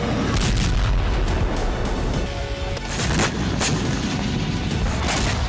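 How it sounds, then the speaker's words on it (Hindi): Missile strikes on a Russian factory during the Russia-Ukraine war, heard as a dense roar of booming blasts and crackling bursts that build and recur throughout, loud and close with no clear pauses. "जिस वक्त यूक्रेन की मिसाइलें फैक्ट्री से टकराई, तब आसपास कई लोग मौजूद थे।"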